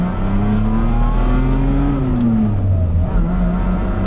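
A Lamborghini LM002 with a Countach V12 engine revs under acceleration, a loud, deep, rising drone heard from inside the cabin, its pitch climbing and then dropping briefly as the engine pulls.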